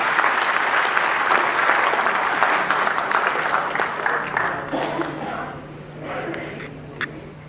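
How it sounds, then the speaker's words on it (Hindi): A seminar audience gives loud, sustained applause that fills the room and then thins out into scattered claps and a few murmuring voices as it dies down. "एक बार जोरदार ताली बजा करके"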